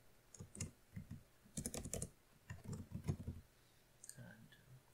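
Computer keyboard typing while field names are entered in an OpenOffice Base table, quick bursts of close, quiet key clicks in irregular clusters, no speech.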